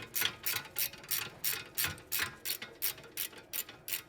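A ratchet wrench loosens a fastener during front brake replacement on a 2015–2018 Mercedes-Benz W205 C300, giving about a dozen evenly spaced ratcheting clicks, close and alone.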